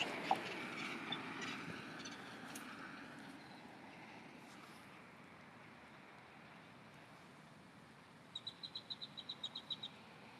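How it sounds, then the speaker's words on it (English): Faint outdoor ambience with scattered bird chirps early on, then a quick rhythmic series of bright chirps near the end, fairly distant. "Y'all hear the birds?"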